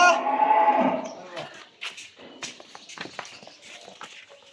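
A Holstein Friesian dairy cow gives one loud, drawn-out moo up close. Faint shuffling, clicks and footsteps follow in a quiet barn.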